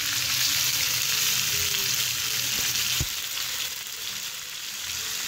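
Chicken sizzling loudly and continuously in a pan as spices such as cumin, black pepper powder and salt go in, one brief tap near the middle, close with no talk.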